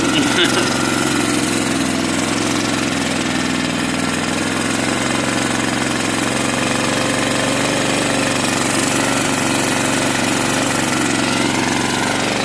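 A small engine running on vaporised fuel, its exhaust firing through a bubbler, runs steadily with a loud, rough, rattling drone that never lets up, close by and filling the whole stretch.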